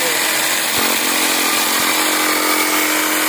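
A Dnipro-M JS100LX jigsaw cuts through a wooden board with a loud, steady motor buzz that runs unbroken from start to finish, with faint talk underneath.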